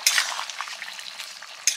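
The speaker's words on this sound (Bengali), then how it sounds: "ঝোল ফুটে গেছে, মাছ দিয়ে দিলাম।" Fish going into a boiling curry in a home kitchen, with a short sizzle and bubbling plus soft stirring and a metal utensil clinking against the pot, a brighter clank at the start and again near the end.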